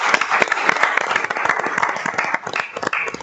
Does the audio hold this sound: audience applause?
yes